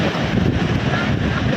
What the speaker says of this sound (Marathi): समुद्र बघा गाईज समुद्र.